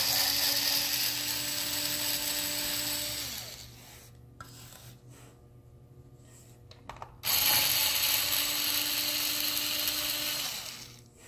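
A screwdriver turns screws out of the bottom panel of an HP laptop, giving a steady close ratcheting rasp that drops away in the middle and then returns at full strength.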